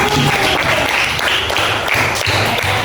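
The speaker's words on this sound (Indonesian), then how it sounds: "beri tepuk tangan yang sudah berani maju" A classroom of students applauding classmates who came forward, loud sustained clapping from a group in a room, close and continuous throughout.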